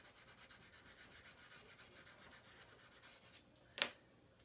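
Chalk is rubbed on paper to blend a sunset drawing, making faint, steady rhythmic scratching strokes close by, followed by a single short sharp tap near the end.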